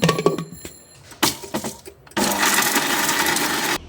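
A mixer grinder blitzes lemon chutney with no water added: several short bursts of whirring with stops in between, then one long, loud continuous grind that cuts off abruptly.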